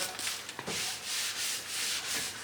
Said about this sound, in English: Now, let me not bore you to death with this sanding.